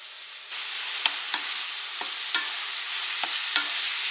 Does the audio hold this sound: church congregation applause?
no